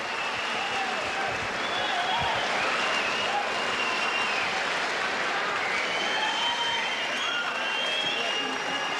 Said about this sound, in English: Standing ovation from the crowd as well for both men.